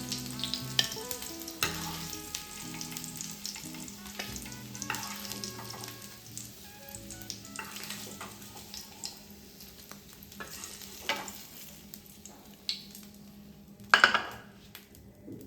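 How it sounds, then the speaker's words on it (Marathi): Paneer shallow frying in a pan for paneer tikka masala, a steady close sizzle with intermittent stirring scrapes and utensil clinks, one sharper clatter near the end, no talk. "अशा प्रकारे आपल्याला शॅलो फ्राय करून घ्यायचं आहे. हे असं पनीर."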